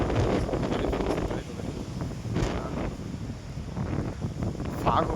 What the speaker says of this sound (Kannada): ಯಾವ ಥರ ಐತೆ ಗಾಳಿ ಆರ್ಭಟ ಐತೆ